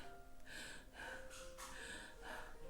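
A voice imitates panting breath: a run of breathy, hissing gasps in quick uneven bursts, close and fairly faint, with no words spoken.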